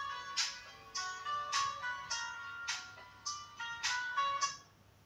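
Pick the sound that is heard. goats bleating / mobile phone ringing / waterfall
mobile phone ringing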